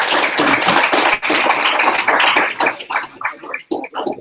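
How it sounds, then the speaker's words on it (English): A room of people at a university board of supervisors meeting claps together in dense, loud applause that thins out into scattered individual claps before stopping. "Let's give them a round of applause"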